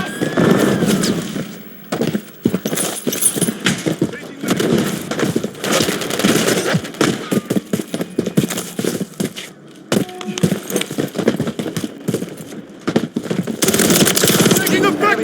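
Rapid machine-gun bursts and single gunshots in a Call of Duty Modern Warfare 3 multiplayer Kill Confirmed match come in loud, choppy volleys with short pauses between them, with game voice callouts mixed in.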